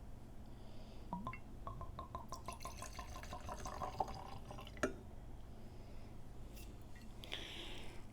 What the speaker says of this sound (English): let's pop the top and give ourselves a pour.